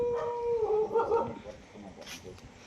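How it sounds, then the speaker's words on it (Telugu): Dogs at night howl in a long wavering chorus, strong at first and then trailing off, with a brief higher yip or bark toward the end, heard fairly close over faint background noise. "కుక్కలను కూడా లేపావు అట్లయితే"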